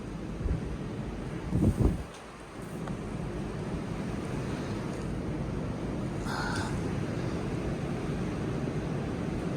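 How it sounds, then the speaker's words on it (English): Wind gusting into a hollow with holes large enough to climb into, a constant loud, rough roaring rush close to the microphone, with a few brief knocks near the start. "Does get a bit of wind in here though."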